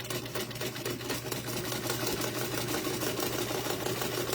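A sewing machine back stitching a quilt block at a quarter-inch seam runs steadily and close by, with a continuous rapid mechanical hum and clatter that holds for the whole stretch.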